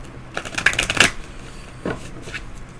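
A deck of animal oracle cards is riffled and shuffled in quick papery bursts, then a few softer flicks follow as cards are drawn, close up and without speech.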